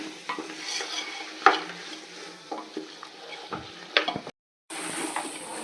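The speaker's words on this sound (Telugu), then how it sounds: "ఇదిగోండి మటన్ వేసేసుకొని బాగా వేసుకుందాము." Boiled mutton frying in a pan for biryani, heard as sizzling with uneven scraping and clattering spoon strokes against the pan, close and fairly loud, and a short silent gap near the end.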